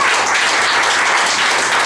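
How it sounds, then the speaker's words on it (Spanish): Church congregation clapping together during a sermon, a brief dense burst of many hands at close range, loud and continuous with no voices over it. "Dele palmas a Dios."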